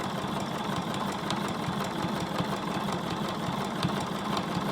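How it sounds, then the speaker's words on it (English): A domestic sewing machine back stitching at a corner of a fabric tote bag, running as a steady, continuous mechanical whir with a regular rapid needle rhythm, moderately close and alone without talk. "Now I'm gonna back stitch again, because remember, this is one of our corners"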